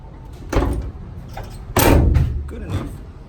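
A Chevy Express van door with a broken handle and latch opens and closes, giving two loud thumping clunks close by, with a softer knock after.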